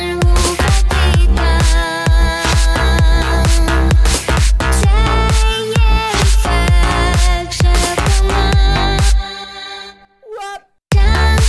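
An Asian-style vocal hook sequence from the Vengeance Avenger Future Vocals expansion plays loud and dense with pulsing beats, then drops out near the end leaving brief fragments and a short gap.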